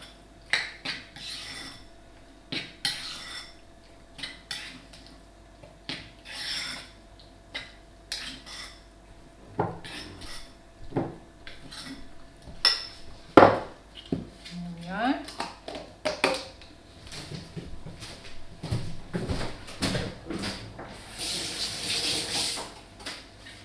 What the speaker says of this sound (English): So mix that up.